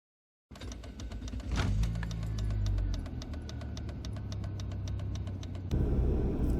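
A 1996 Volvo 440 1.6 ES in very nice condition idles and drives at low speed in a queue, its engine rumbling steadily and close up, with a brief knock early on and a louder shift near the end; no one speaks.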